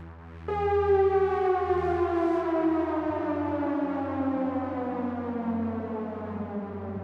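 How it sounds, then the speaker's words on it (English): Siren-style downlifter in a techno track with Afro influences: a loud, sustained wailing tone that slides steadily downward in pitch over about six and a half seconds, layered over a low droning bass. "Here I have a siren type of downlifter."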